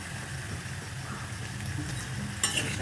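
Onions with salt and garlic fry in a pan, making a soft, steady sizzle close by, with a brief brighter clatter near the end.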